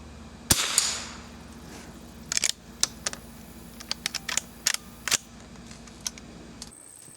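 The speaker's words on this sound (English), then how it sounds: "that was a lot of fun shooting this old lever action rifle" Sharp reports from a vintage Marlin 39A lever action rifle, one strong shot near the start followed by a scattered series of quick, clicking cracks and snaps, fairly close, with no talking.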